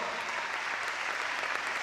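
Steady, dense clapping from an audience at an Arrecife drag gala, greeting the event's sponsors, a full crowd applauding evenly for a couple of seconds.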